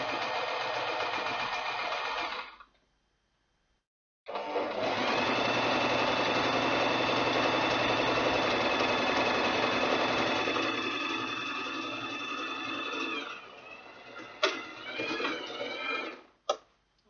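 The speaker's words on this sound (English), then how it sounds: "I'm sewing on the right side of the cloth, not on the wrong side." Sewing machine stitching close to the edge on the right side of ankara cloth for a leather bag, a steady whirring run broken by a short pause, then a brief restart and a few clicks at the end.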